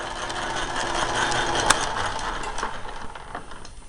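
A metal lathe being shifted into back gear gives steady mechanical gear and ratchet noise with a sharp click midway, fairly close and continuous, and no voices.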